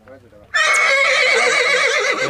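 Partway through, a horse at a breeder's home in the Jalore region lets out a loud, close whinny that rises sharply, then holds and wavers to the end. Brief low talk comes just before the call.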